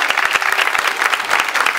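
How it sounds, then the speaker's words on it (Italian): Schoolchildren clap together to welcome new arrivals on a school welcome day, a dense, steady burst of applause close by, with no clear talk. "un applauso alle nuove arrivate."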